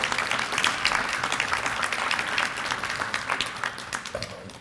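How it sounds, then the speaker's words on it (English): An audience at a city beautification commission kick-off event applauds, many hands clapping in a full, lively burst that stays strong and slowly thins toward the end. "If we can give all of them a big round of applause."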